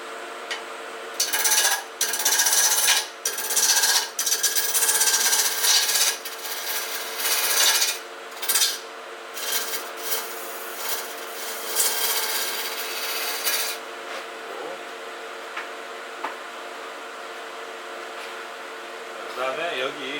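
A wood lathe turns a three-part bowl blank as a tool truing its wobbly face cuts in bursts of harsh scraping and rasping, loud at first then easing to a steady whir, with someone talking.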